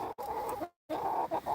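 A chicken clucks softly up close in a few short bursts, with a brief silent gap between them.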